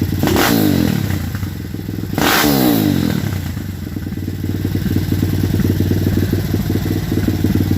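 A small pit bike engine with a racing carburetor revs hard twice, then settles into a rough, rattling idle, loud and close.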